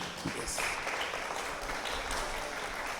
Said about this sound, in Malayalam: നിങ്ങൾ ഒന്ന് കൈയടിച്ച് കർത്താവിന് നന്ദി പറയാം.